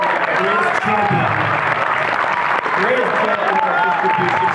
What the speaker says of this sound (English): Everybody needs to clap for Liza.